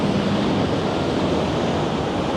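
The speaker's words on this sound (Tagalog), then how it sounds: "Kaya ang lalaki ng alon. Pag humampas talagang panalo." Big ocean waves break on a shore on a populated Maldives island, giving a continuous, loud, rushing surf wash with wind, steady throughout and without voices.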